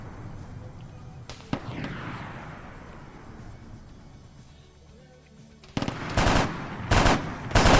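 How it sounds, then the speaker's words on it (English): Autocannon fire in an Arma 3 Warhammer 40k military game, a distant burst at first followed by a quieter stretch, then several louder, closer rapid bursts of heavy automatic shots near the end. "Still hearing auto cannon fire."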